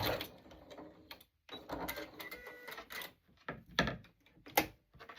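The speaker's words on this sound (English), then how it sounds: "back stitch the opening" A sewing machine back stitching fabric for a fabric butterfly, running in short, clattering bursts with brief pauses between them, close and fairly quiet.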